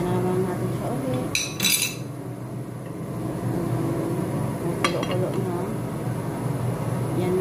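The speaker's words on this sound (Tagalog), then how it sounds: "So, takpan naman natin siya ulit." A metal lid set down on a pot of broccoli soup in a home kitchen, giving a couple of sharp clanks near the start and a lighter clink later, over steady background hum.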